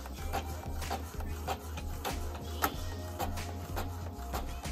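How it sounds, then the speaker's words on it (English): Printer starting up to print an acrylic QR code plaque, a constant mechanical hum with regular rattling clicks and ticks of the print head moving back and forth. "it's starting to print."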